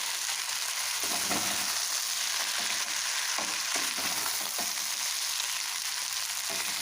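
Vegetable chow mein with winter vegetables and soy sauce frying in a hot pan, giving a steady broadband sizzle with intermittent scraping stir strokes, close and continuous with no talking.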